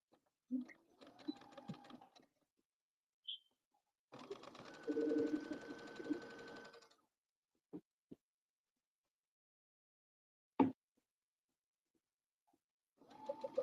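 A sewing machine stitches the cuff of a bomber jacket sleeve in several short bursts, each a few seconds long, separated by silence and a few clicks, heard close and fairly quiet.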